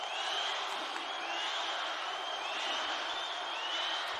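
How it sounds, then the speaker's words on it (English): A loud, sustained crowd roars and cheers in an indoor swimming arena during championship finals, a dense, steady wash of noise with no breaks. "The crowd is going nuts."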